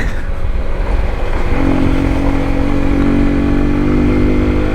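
A scooter engine drones loud and close as it is ridden along a road, with a steady hum that rises in pitch after a moment and holds a constant throttle, with no one speaking.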